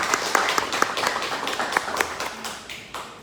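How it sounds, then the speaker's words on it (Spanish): An audience at a museum anniversary celebration applauds in brisk, close clapping that is strong at first and then gradually thins and fades. "Fuerte aplauso nuevamente para el maestro Luis Morán."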